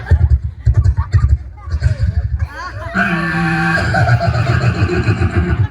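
A beatboxer imitates a horse's whinny at a talent show, a long wavering neigh that follows a stretch of lively chatter, loud and close.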